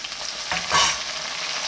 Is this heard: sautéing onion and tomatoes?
yes